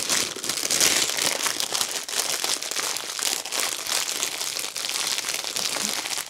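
Diamond painting canvas being rolled back on itself, giving a steady, close crinkling and crackling of stiff plastic-coated sheet that runs without pause.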